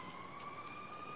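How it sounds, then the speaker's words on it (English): Police sirens wail in a steady, high, sustained tone, fairly faint and distant, heard alone with no talk for about a second. "Those are the sirens I was telling you about."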